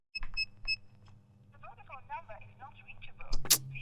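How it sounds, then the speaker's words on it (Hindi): A phone being dialed: several short, bright beeps, followed by a chirping ringback or network tone and a loud burst at the end, with voices talking underneath. "फोन लगा जल्दी से।"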